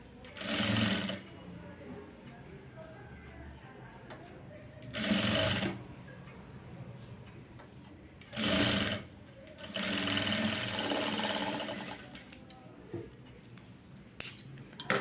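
A sewing machine stitches leaf-model piping in three short, loud bursts and then a longer run, with quiet talking in the gaps between runs.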